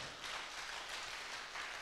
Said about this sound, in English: Give the Lord a hand clap right now.